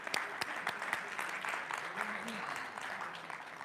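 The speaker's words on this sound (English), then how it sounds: "Let's give Heather another round of applause." Applause from a seated audience honouring a performer named Heather at a talk, a steady faint wash of clapping running throughout, with some voices murmuring beneath.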